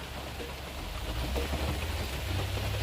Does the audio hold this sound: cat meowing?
no